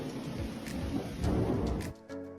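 Heavy rain pours during a downpour in Japan, a dense hissing wash with low rumbles. It is moderately loud, then drops suddenly near the end to a quieter tone.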